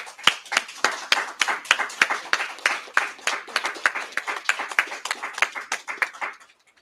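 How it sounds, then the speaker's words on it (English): A group applauds at a press briefing on an arrest in a murder case, a sparse round of individual claps in a loose rhythm that stays steady, then stops, leaving silence. "So I would like to applaud them."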